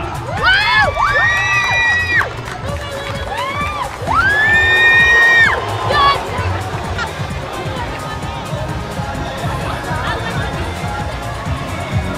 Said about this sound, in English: this is a tremendous crowd here